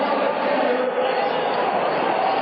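Football stadium crowd at a 1982 Browns at Bengals game reacting to Charles Alexander's run, a steady, broad roar of many voices filling the whole stretch without a break.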